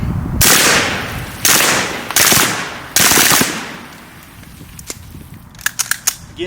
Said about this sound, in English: We're just going to do a couple control bursts into that pumpkin